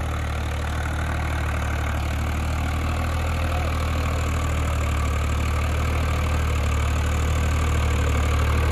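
A Swaraj tractor's engine runs steadily in third low gear, a loud, constant low rumble with no voices, holding an even level from start to finish.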